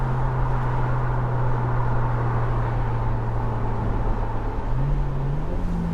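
A Mercedes SL400 in sport mode cruises with a steady, moderate engine drone, then the engine pitch steps up twice near the end as it downshifts.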